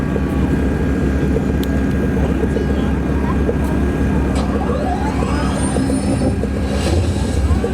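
A small missionary plane drones past at an airshow, a steady engine hum and whir running under a continuous announcer's voice over the loudspeakers.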